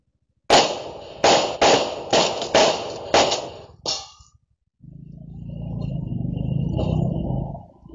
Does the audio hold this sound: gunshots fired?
yes